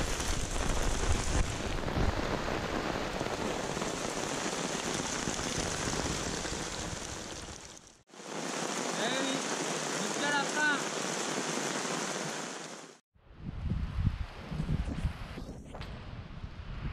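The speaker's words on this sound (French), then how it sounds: "on a pris une grosse averse, gros orage qui a duré plusieurs dizaines de minutes, grosse pluie" Heavy rain pours during a thunderstorm on a deserted island in a dense, continuous broadband wash, loud and close, broken by two brief cuts, with gusts of wind buffeting the microphone.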